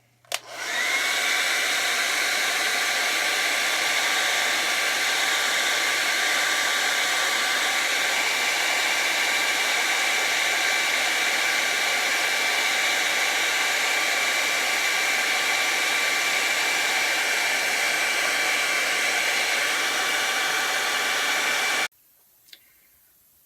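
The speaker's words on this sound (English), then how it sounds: "A simple hair dryer will help dry it out." A hair dryer blows on a leather and vinyl car seat repair coating, making a loud, steady whirring roar that holds unchanged for about twenty seconds before it switches off abruptly.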